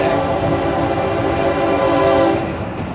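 A loud freight train rumbles past close by, its steady roar and rattling wheels filling the air with a sustained, tonal drone.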